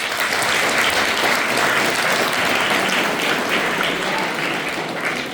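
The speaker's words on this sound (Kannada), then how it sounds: "ಇದು ಚಪ್ಪಾಳೆ." An audience at a school gathering bursts into sustained applause, a dense, even wash of many hands clapping at once that holds steady and loud for about five seconds.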